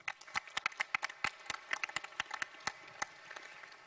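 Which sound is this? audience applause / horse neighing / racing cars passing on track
audience applause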